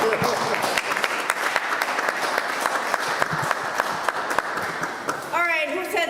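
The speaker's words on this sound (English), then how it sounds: "We should give that a round of applause." Seminar audience applause, a sustained wash of clapping with sharper individual claps, ending as a voice begins talking near the close.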